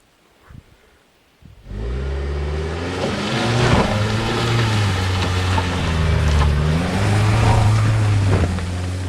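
A VW Tiguan in first gear with the pedal floored, climbing a slippery hill: after a couple of faint clunks the engine starts up and holds a loud, steady roar with rising and falling revs, close and continuous, no voices.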